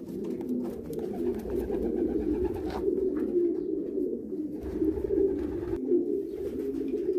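Domestic pigeons coo in a breeding loft on an Egyptian meat-pigeon farm, several birds producing soft overlapping throaty coos in a repeated rolling rhythm, close by and steady throughout.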